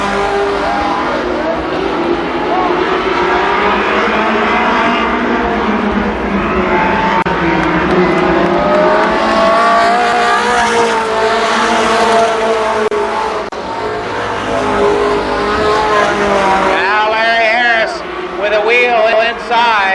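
Race cars at Columbus Motor Speedway in 1993 make a loud, continuous engine roar that rises and falls as they lap the oval, under steady excited commentary throughout.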